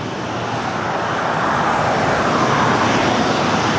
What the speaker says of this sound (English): 1696 taking off to Las Vegas on a 737-800